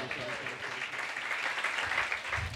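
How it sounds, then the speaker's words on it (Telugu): A church congregation clapping during Sunday morning worship, a brief steady burst of many hands at moderate distance with voices mixed into the wash. "నమ్మిన వారందరూ చప్పట్లు కొట్టి దేవుని మహిమ పరుద్దాం."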